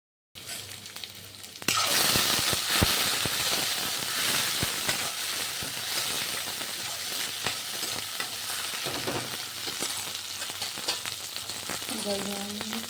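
A pot of macaroni cooking on a home kitchen stove gives off a dense, steady hiss and bubbling sizzle that starts softly, swells sharply after a moment and stays constant throughout, with faint clinks near the end.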